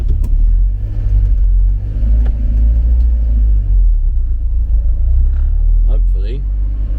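Talbot Express camper van engine running and pulling away, a steady loud low rumble throughout with faint traffic-like detail, close to the vehicle; no talk over it.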